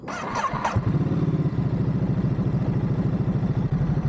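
A motorcycle engine cranks with a short whir and catches, then settles into a loud, close, evenly pulsing idle that runs to the end.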